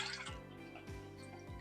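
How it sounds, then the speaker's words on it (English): Hot water trickles and drips into a pot of Mexican-style lentil soup, a faint, quiet pour with soft splashes and no talking. "For my taste, I'm going to add a little bit more of hot water."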